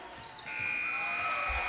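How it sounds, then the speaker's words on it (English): A final buzzer at a high school boys basketball game between the Milford Scarlet Hawks and Attleboro sounds as one sustained loud electronic tone, starting after a brief lull and holding over the gym's murmur. "And there is the final buzzer."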